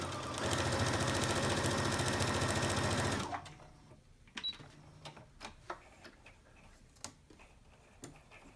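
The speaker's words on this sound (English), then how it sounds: "you'll want your sewing machine on a 2 where your needle is centered. And we're just going to do a 1/4 inch seam allowance" A sewing machine stitches a quarter-inch seam on a quilt-as-you-go log cabin pillow cover, running loud and steady for about three seconds, then stopping and leaving scattered small ticks and clicks.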